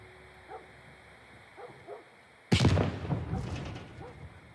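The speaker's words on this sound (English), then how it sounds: "Two explosions, like, right there, too. Right near our house." In The Last of Us Part 1 video game, a sudden loud explosion bursts out after quiet barking and rumbles away over a couple of seconds.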